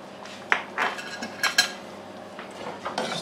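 A spoon stirs Tabasco sauce into a pan of reheated military MRE leftovers, making a few light metallic clinks and scrapes against the pan with short pauses between them.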